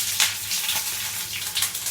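Curry leaves and cut chilli fry in hot oil for Kerala sambar, giving a steady, bright crackling sizzle with small popping bursts throughout.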